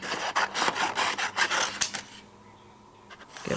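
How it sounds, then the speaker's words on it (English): Paper is trimmed around die-cut flowers with a rasping, rubbing cut, a run of close scraping strokes that fades to quiet near the end. "let me trim away quite a bit of this and my little flowers"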